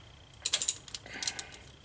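Ratchet snugging the transmission drain plug on a Bullitt Mustang, two quick runs of crisp clicks close by, a burst of about five clicks then a shorter set, with no talk.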